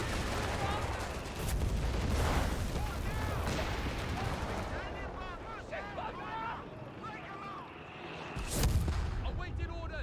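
Gunfire and explosive booms in Company of Heroes 3 crack over a continuous battlefield rumble, with a heavy blast near the end and in-game soldier voices calling out.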